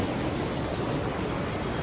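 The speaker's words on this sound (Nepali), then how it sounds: "खोला सानो रहेछ यो" A small mountain stream on the trail to Kahpuche glacier lake in Nepal flows with a steady, close, even rush of water, with no voices and no change in level.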